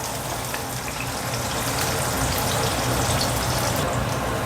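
Onion added to hot oil with green chillies and peanuts while making a dish of leftover flatbread pieces, giving a continuous loud, dense sizzle that holds steady throughout.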